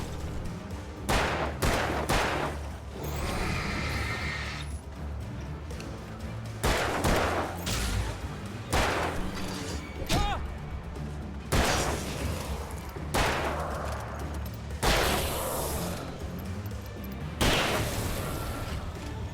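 Gunfire in the video game Alan Wake: loud shots come in repeated bursts a second or two apart, each with a heavy booming tail over a low, rumbling game background.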